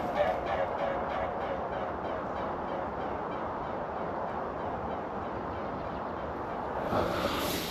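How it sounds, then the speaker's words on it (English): Swans flying overhead over the Hampshire Avon, a steady rhythmic whooshing of wingbeats throbbing through outdoor ambience, fairly faint and continuous, with no talking. "Swans in flight."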